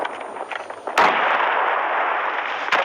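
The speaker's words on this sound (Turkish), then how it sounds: "ben bomba atacağım" A grenade goes off in a shooter video game: one sharp, loud blast opens into a sustained roaring rumble, and a second short burst cuts in near the end, with no talk.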